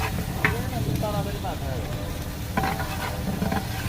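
Salt and spices temper in hot oil for mutton polao, a steady close sizzle with occasional spoon scrapes and stirring, while a voice talks over it.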